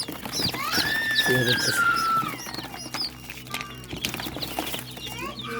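High, sliding chirps and peeps from young rooster chicks, close and busy, with people talking nearby and rustling in the background.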